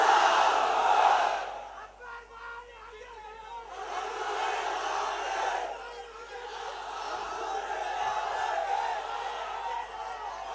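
A large crowd at a political rally roars back in unison to the Nara-e-Takbir slogan, with repeated loud collective shouts that swell and fade and echo across the gathering.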